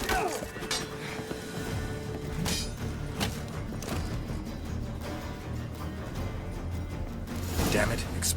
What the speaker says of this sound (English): An explosion gets us in the vault.